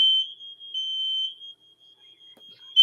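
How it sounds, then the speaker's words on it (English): A smoke alarm sounds upstairs while someone is cooking, a loud high-pitched continuous tone that cuts in and out over a few seconds and then resumes. "That's my wife is cooking upstairs, and it's smoke alarm."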